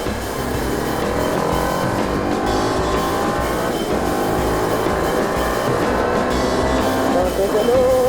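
A TVS Apache RR 310 motorcycle engine roars continuously at speed along a road, with a steady high drone and a rising whine near the end, loud and close.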